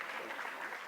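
Applause for a guest speaker at a formal felicitation ceremony during a discussion event, steady dense clapping from an audience filling the whole second at moderate level.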